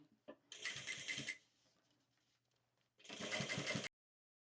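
A sewing machine stitching bias binding runs in two short, fast, rhythmic bursts separated by a quiet pause, close and fairly loud.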